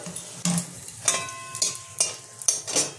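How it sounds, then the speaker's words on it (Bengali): Two chilies crackle in a little hot oil as the tempering for a chickpea dal begins. Quiet sizzling comes in short bursts about every half second, mixed with stirring scrapes in a pan. "লঙ্কা 2টো ফাটিয়ে দিলাম"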